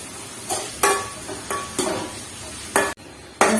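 Spices crackle and sizzle in hot oil for a tempering for coconut chutney, with repeated sharp bursts as a spoon stirs and scrapes the pan, close and fairly loud.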